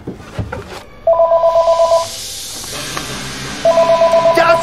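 A telephone rings in two bursts of rapid, trilling electronic pulses, loud and close, separated by a pause with some rustling and handling noise.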